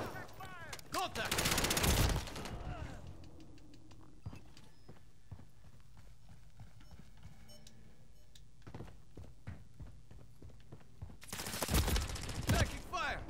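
Video game gunfire rings out in loud bursts at the start and end. Between them come scattered quieter shots and clicks, and a player speaks.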